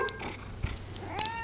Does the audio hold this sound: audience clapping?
no